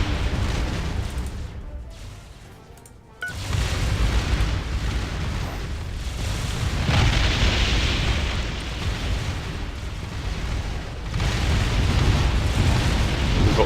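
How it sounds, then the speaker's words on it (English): Planetary bombardment in the space strategy game Distant Worlds Universe: dense, rumbling explosion bursts rolling continuously, loud and broad, with a brief drop to quieter noise early on before the barrage swells again. "I've ordered you to bombard the planet."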